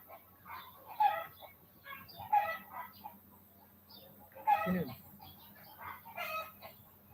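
Roosters crow repeatedly at a home with many chickens, with clucking in between. The calls are moderately distant and come in a loose, irregular series.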